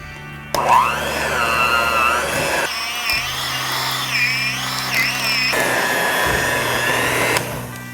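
An electric hand mixer whips keto no-bake cheesecake filling on its lowest setting, a steady loud whirring motor hum whose pitch wavers as the beaters churn, with brief pauses and shifts in tone.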